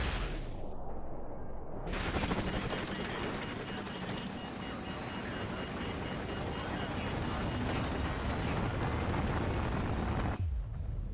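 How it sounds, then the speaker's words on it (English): Incoming missile strike in Call of Duty 4: Modern Warfare, a dense, continuous roar of blast and rumble that cuts in sharply and sustains loudly for about eight seconds before stopping abruptly. "What the bloody hell is that? Incoming missile."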